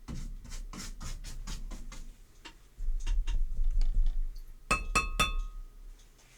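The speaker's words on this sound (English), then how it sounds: "Go ahead and rinse off your paintbrushes." Paintbrushes knock and clink against a glass water cup in quick bursts of bright taps, several sharp strikes clustered near the end, with low rubbing and swishing between them, close and fairly quiet.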